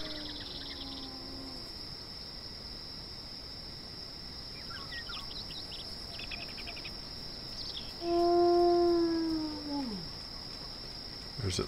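Several wolves in the survival game DayZ howl from a distance, long rising-and-falling cries with one loud, close howl near the end over steady insect-like background noise.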